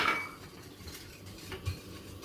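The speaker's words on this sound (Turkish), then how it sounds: "Hızlıca karıştırıyorum." Starch being stirred quickly into a mixture in a pot for a banana roll cake, a soft, steady scraping and clinking of utensil against the pot, fairly quiet and continuous with a small knock near the end.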